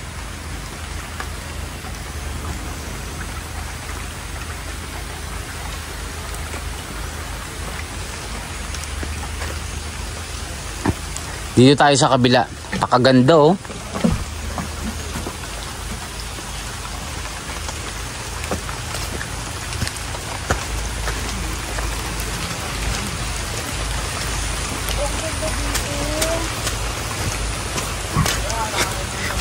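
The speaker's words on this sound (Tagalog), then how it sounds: "Malakas yung ulan." Heavy rain pours by a river in a Leyte forest, a loud, steady hiss that fills the whole stretch. Someone speaks briefly near the middle over the downpour.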